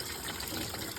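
Engine coolant from a Honda Odyssey draining into a pan during timing belt and water pump replacement, a brief close steady gush of liquid.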